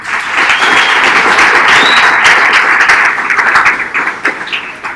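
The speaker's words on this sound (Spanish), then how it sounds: "con un aplauso lo recibimos" Loud applause from a conference audience at React Week Medellín 2019 greeting a speaker, many hands clapping in a thick burst with a few sharper close claps, thinning out toward the end.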